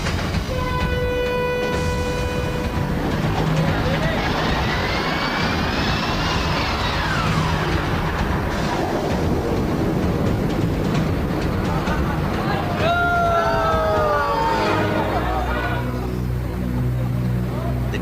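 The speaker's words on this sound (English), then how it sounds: "The train cascades backwards." A heavy rollercoaster train rolls backwards down its track with a loud, steady rumble and rising and falling mechanical whines, while a voice talks over it throughout.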